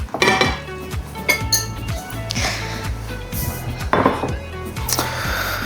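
Plates and cutlery clink and knock while food is being plated, with irregular close metallic taps, ceramic scrapes and brief rattles throughout.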